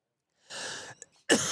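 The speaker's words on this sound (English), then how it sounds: "Thought I hit the mute button there on my cough." A sports commentator coughs twice, the second cough sharper and louder, with a short hush between them and no talk around them.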